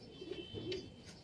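Soft cooing of a pigeon or dove close by, a few low murmuring notes rising and falling over a quiet background, with no talking.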